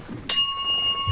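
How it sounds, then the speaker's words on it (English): A single loud, close bell strike rings out with a bright metallic attack, then a clear sustained shimmer that slowly fades. "Ringing the bell out."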